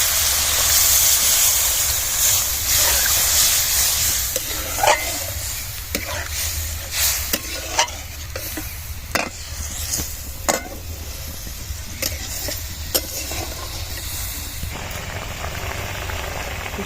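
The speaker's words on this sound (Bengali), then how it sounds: "ঝোলটা ফুটে গেছে" A potato curry broth bubbles in a pan after water is added, a steady hissing simmer broken by scattered clicks and taps of utensils, heard up close with no speech.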